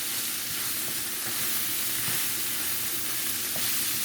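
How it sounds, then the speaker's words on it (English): Ackee and saltfish fry in a pan with a steady, loud sizzle throughout, while faint stirring scrapes sound close by and no one speaks. "I'm going to give it another stir again"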